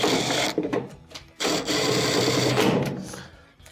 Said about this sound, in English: Let's reinstall the 2 rear 1/4 inch screws.